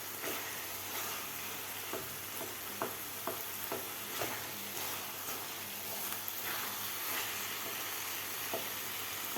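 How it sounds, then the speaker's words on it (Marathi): Carrot halwa with khoa being stirred and sautéed in a pan, a soft continuous sizzle with quiet scraping stir strokes, fairly faint and steady with no voices. "2 मिनटं परतून घ्यायचा आहे हलवा."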